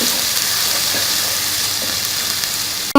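Ginger garlic paste sautés in a hot pan, a loud, close, continuous sizzle and hiss that cuts off sharply at the very end.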